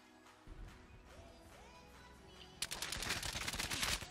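Shotgun fire in Black Ops 4, a loud burst of rapid blasts arriving after a quieter stretch of in-game ambience and sound effects.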